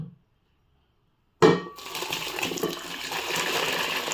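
After a short silence, a clank is followed by a steady rush of boiled water with masala pouring into a rice cooker, close and moderately loud.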